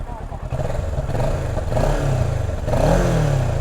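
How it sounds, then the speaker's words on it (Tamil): A Kawasaki Versys 650 motorcycle idles close by with a mild, soft exhaust note, a low steady thrum with slight swells, while someone talks over it. "இந்த வண்டியோட எக்ஸாஸ்ட் எப்படி இருக்குன்னு பார்க்கலாமா?"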